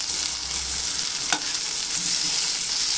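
Crab meat hitting a pan of hot spiced masala sizzles and crackles loudly and steadily, close by, with a brief sharp scrape of stirring partway through and no talking.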